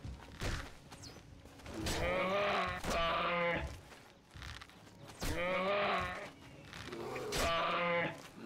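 Sheep in the video game Oblivion bleat in two long, wavering, nasal calls, close and fairly loud, with faint game sounds in between.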